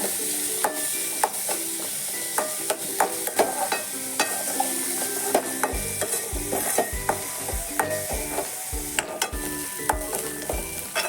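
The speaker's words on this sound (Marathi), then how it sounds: "तर कांदा आणि हिरवी मिरची घातली आहे बरोबर. आता हे भाजू दे थोडा वेळ." Chopped onion and green chilli fry and sizzle in a pan, with a steady crackle under repeated clinks and scrapes of a spatula stirring against the metal, no voices.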